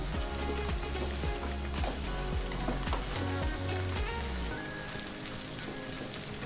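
Grated radish with chilli powder and salt sizzles steadily and loudly in a frying pan, with scraping stirring strokes running through the continuous crackle.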